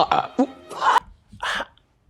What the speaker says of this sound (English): It sounded like a burp fart.